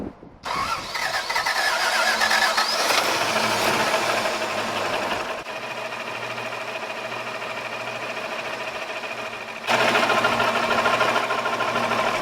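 A Toyota FJ60 engine with a Flowmaster exhaust idles steadily, a loud, continuous mechanical drone with a brief drop in level partway through before it picks up again.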